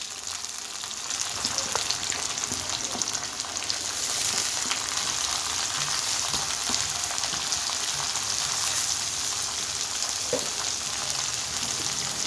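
Chopped onions sauté in a hot pan for a potato and mochai bean sabji, giving a steady, close sizzle that runs unbroken and grows slightly fuller after the first few seconds.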